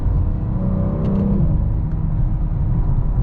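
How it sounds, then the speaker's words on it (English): Steady loud stock exhaust drone from a BMW M4 Competition at high speed, a constant low rumble with a brief rising whine early on, no talking. "the stock exhaust doesn't sound as bad now that we're at like high speeds"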